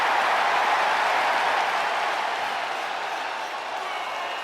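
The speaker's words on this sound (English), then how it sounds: "This crowd is going wild" A large wrestling arena crowd roars and cheers continuously for the Ultimate Warrior's entrance, a dense, loud wash of voices that fades slightly toward the end.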